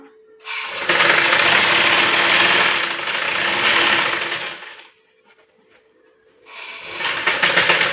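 Sewing machine stitching piping onto a blouse neckline, two loud bursts of motor whir with fast needle rattle separated by a short quiet pause, the second run starting toward the end.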